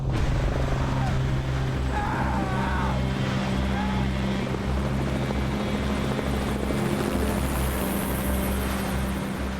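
A steady, loud helicopter drone with a deep rotor hum fills the whole stretch, continuous and close overhead.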